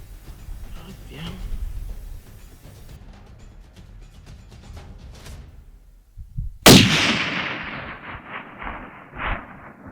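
A rifle fires a single long-range shot at a bighorn ram in open mountain country: one sudden loud crack with a rolling echo trailing off, preceded by soft wind and murmured voices nearby.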